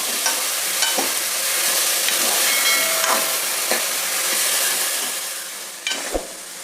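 Field beans and tomato frying in oil in a pan over lowered flame, a close, continuous sizzle and hiss with occasional stirring scrapes and light taps, no talking.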